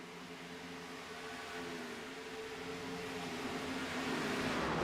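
Race cars circling the track at Auto Club Speedway during an OSR race, a steady, fairly faint engine drone that slowly swells louder over several seconds, with no talk.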